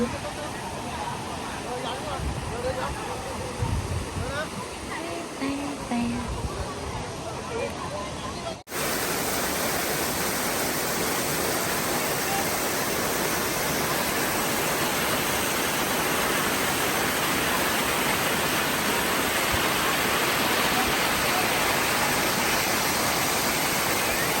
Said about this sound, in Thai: น้ำตกมีทั้งหมด 9 ชั้น